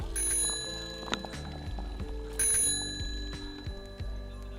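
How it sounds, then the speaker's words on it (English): A bicycle bell rings out along a 22-mile outdoor bike path, with bright repeated dings over the rolling clicks of a passing bike and light background noise. "every time you hear a bell ring along this 22-mile bike path"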